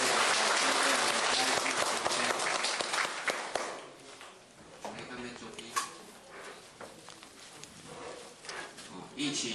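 Applause from an audience at a Buddhist-style class closing ceremony in Tainan, loud dense clapping at first that fades into scattered claps and room noise.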